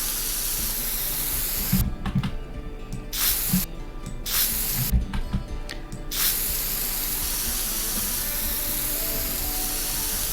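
Spray paint sound effect from The Sims 4 while building a cheap starter home: three short hissing bursts within the first seconds, fairly loud over a constant background of game ambience and music.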